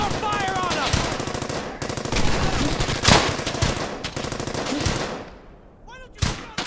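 Rapid machine-gun bursts and rifle fire crackle close and loud in the World War II shooter Brothers in Arms: Hell's Highway, in repeated volleys with short gaps and sharp single shots near the end.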